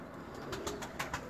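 Pigeons of a bred racing/high-flying stock cooing softly, a few low throaty coos rising above a faint background hum, fairly quiet and close.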